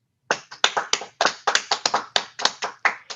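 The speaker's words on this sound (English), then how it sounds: "I would like to invite all to give ourselves a big applause" A small audience at a paper competition's closing ceremony gives itself a round of applause: about a dozen sharp, distinct claps in quick, slightly uneven rhythm, close and clear against silence, lasting a few seconds.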